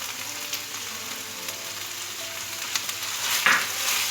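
Capsicum with chilli sauce and ketchup fries in a pan, giving a steady close sizzle with occasional light clicks of a utensil stirring.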